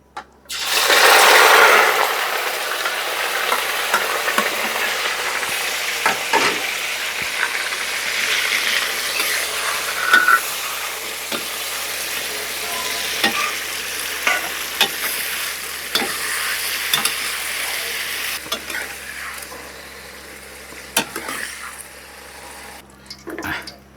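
Eggplant frying in a pan, a continuous crackling sizzle with repeated spatula scrapes and clicks, starting with a loud burst as it hits the oil, with no voices.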